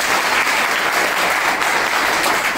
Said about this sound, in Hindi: तो एक बार अपने लिए ताली बजा दीजिए जरा,